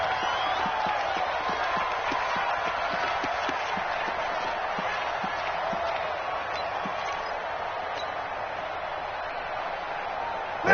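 Steady stadium crowd noise at an NFL game in Madden 20: a continuous, even roar with light rhythmic thumps runs through the clip, and commentary voices sit over it.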